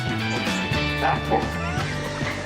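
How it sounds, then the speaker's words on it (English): A pig gives a few sharp, dog-like barks and yips, loud and close, with a busy voice-like clutter of sound running continuously underneath. "She's barking. She's like a dog."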